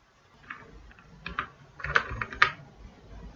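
Computer keyboard keys tapped in short irregular bursts while entering a one-time password, moderately close and fairly quiet, with no talking.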